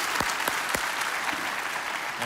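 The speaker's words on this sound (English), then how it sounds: "let's clap loud for that" Church audience clapping loudly, a full bed of crowd applause with a few strong, close claps standing out at the start, fairly distant overall.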